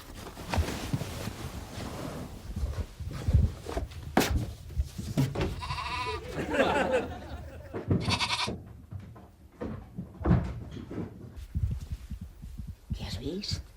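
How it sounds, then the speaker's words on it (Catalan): A lamb bleats and scampers along a house corridor, its cries rising briefly over busy indoor noise and overlapping talk, with scattered knocks and scuffles nearby. "Un xai corrent pel passadís."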